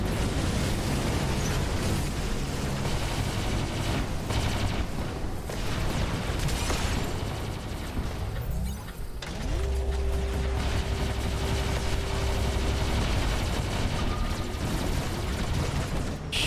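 Dense, continuous robot weapon fire and impacts on an energy shield in the War Robots mech combat game, a loud sustained barrage of bursts and mechanical clatter running the whole time, with a steady humming tone entering midway.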